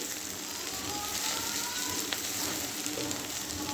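Mustard oil heats and foams in a pan with a soft, even sizzle, a faint continuous crackle close by.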